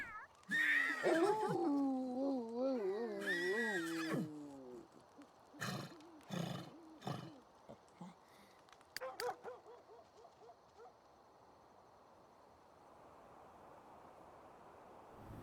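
In a video game, a horse lets out a couple of long, wavering whinnies, followed by several short thuds and clatters that fade into quiet background hiss.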